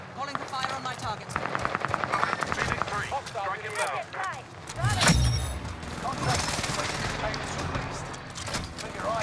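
Video game gunfire rattles through a tense rooftop fight at a prison, with rapid bursts and a loud blast midway, under steady talking voices.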